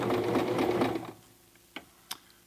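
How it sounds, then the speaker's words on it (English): A Toyota FSG325 sewing machine stitches fabric in a steady, close whirring run for about a second, then stops, followed by a few sharp mechanical clicks. "I'm just going to sew a few inches here."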